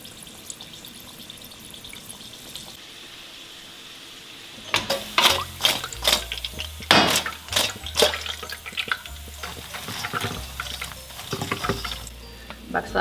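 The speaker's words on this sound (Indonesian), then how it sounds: "Aku menggoreng pangsit." Oil starts sizzling and crackling in a pan after a quiet opening, with bursts of spattering and clatter as wontons fry.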